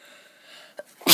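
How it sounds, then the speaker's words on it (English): A single sharp sneeze bursts out at the very end after a brief intake of breath, close and loud. "Pardon my sneezing."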